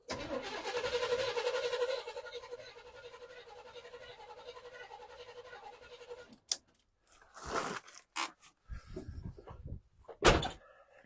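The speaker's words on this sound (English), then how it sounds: "I would have thought it would have popped there because it was actually turning over" A 1979 Chevy Blazer engine cranks steadily for about six seconds without firing, a loud, even churning that then stops, followed by scattered clunks and bursts of handling noise.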